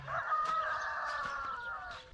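A rooster crows once, a drawn-out, strained call lasting about two seconds, heard clearly but from a moderate distance.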